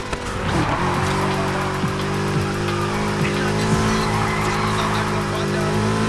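A car drifts in Need for Speed Heat, its engine droning loud and steady. A long tire squeal and skidding run beneath it, with small shifts in pitch through the slide.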